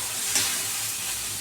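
Food fries in hot oil while being stirred, giving a brief, dense, steady sizzle with a slight scrape near the start.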